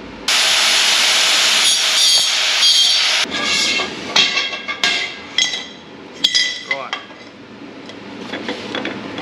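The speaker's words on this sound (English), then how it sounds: "best thing about a milling disc, guys, you can use one and touch everything straight away" An angle grinder fitted with a milling disc cuts metal on an off-road tinny boat trailer build, a loud continuous high grinding roar for about three seconds, then choppy bursts of grinding with brief pauses.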